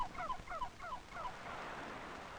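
Farm turkeys gobble in a quick burst of warbling calls, fairly faint over a steady background hiss.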